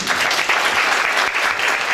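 A crowd at the Miss Oise 2017 beauty pageant applauds steadily, loud and sustained clapping with no break.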